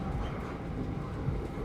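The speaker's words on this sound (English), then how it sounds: "The train has been climbing steadily since dinner." Steady low rumble of a train running, heard from inside a Pullman sleeper car as it climbs through dark forest at night, a continuous even drone with no clear clacks and no talk.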